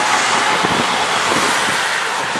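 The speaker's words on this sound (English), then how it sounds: "it's really windy" Strong wind beside Route 2 in Minot, under a flyover as the rain eases, rushes loudly and steadily across the microphone, with a faint low rumble of road traffic underneath.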